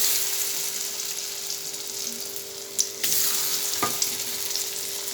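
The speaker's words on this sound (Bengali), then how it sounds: "এবারে এক এক করে ডিমগুলা ভেজে নেব।" Eggs frying one by one in hot oil, a steady bright sizzle throughout with a couple of short clinks of a utensil, close by.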